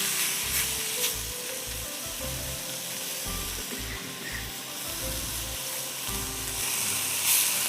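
Beef mince sautéing in a hot pan, loud steady sizzling throughout with bursts of stirring and scraping, close and uninterrupted by speech.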